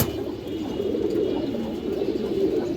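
Muslodom pigeons coo in a steady, low, throaty murmur that carries on without a break, fairly close and moderately loud, with no voices over it.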